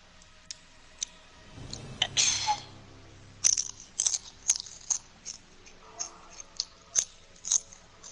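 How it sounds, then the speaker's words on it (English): Someone chews Doritos chips close to the microphone, an initial bite followed by a string of sharp crunches at a loose, irregular rhythm, with no talking. "basically eating Doritos."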